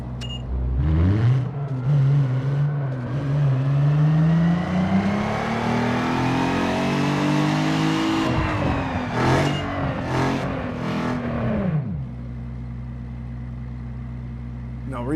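A tuned car in Need For Speed Underground 2 accelerates hard from a standstill. The engine revs climb steadily through the gears, then drop as it eases off and settles to a low steady hum. Some brief sharp bursts come near the end.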